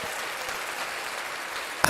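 A crowd applause sound effect plays from a button on a Tascam Mini Studio Creator, a steady wash of clapping that ends with a sharp louder hit.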